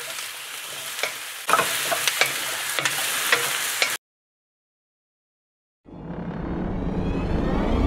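Zucchini stir-frying with garlic and chili in a hot pan, loud crackling sizzle with stirring scrapes, cutting out to a brief silence before the sizzle returns strong.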